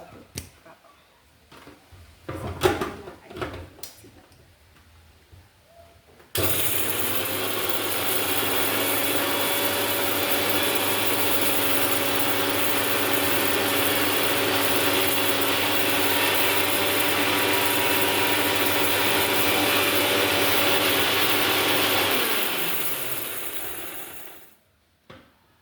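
Dried red chillies whirring in an electric grinder: a few clattering knocks of handling, then a loud, steady motor drone that runs for about fifteen seconds before spinning down and stopping.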